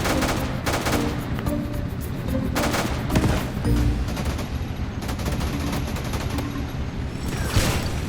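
Tank gunfire in the Roblox game Multicrew Tank Combat 4 with 37mm guns: sustained, dense rattling bursts of shots and booms that pound continuously and loudly across the whole stretch with no talking.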